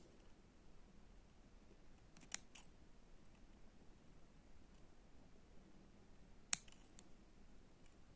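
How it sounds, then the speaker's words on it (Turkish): Two sharp snips of scissors cutting thread sound close up, a few seconds apart, against near silence, while making needle lace. "artık makasla dibinden ipimi keseceğim"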